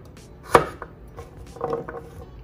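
Knife cutting dense carrots on a diagonal on a cutting board for roasting, with one sharp chop followed by a few softer cuts close by.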